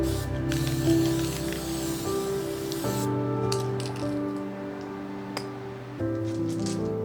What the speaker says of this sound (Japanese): スプレーで黒色に塗ったら完成です。